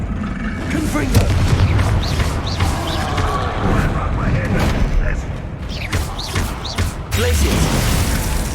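Confringo, the fire-blast spell in the video game Hogwarts Legacy, gives repeated booming bursts and crackling impacts amid combat effects, with a voice shouting the spell's name.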